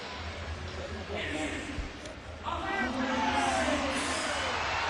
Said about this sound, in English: The crowd booing.